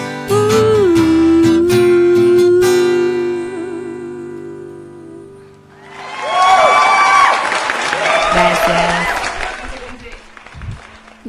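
Audience applause and cheering after a sung performance of a song: a solo voice with instrumental backing fades out, then a dense burst of clapping and crowd cheers swells loud and carries on to the end.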